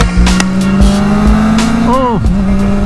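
A Kawasaki Ninja ZX4-RR motorcycle engine drones loudly and steadily while being ridden, its pitch dipping sharply once as if shifting, with wind rush and a faint voice underneath.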